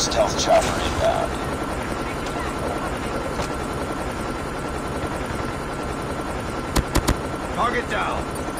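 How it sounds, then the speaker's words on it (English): Helicopter rotor noise from a stealth chopper killstreak in Call of Duty Mobile runs as a constant wash throughout, with brief bursts of gunfire and game voice announcements over it. "Stealth chopper inbound."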